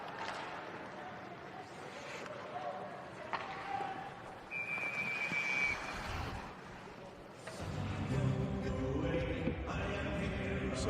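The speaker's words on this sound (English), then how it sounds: "So we got a whistle here, 9:27 remaining here in the second." A referee's whistle at a U Sports men's hockey championship game between UQTR and Moncton gives one steady, shrill blast of about a second, heard over continuous arena crowd noise and rink sounds.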